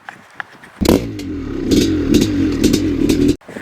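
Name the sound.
Maico 490 motorcycle engine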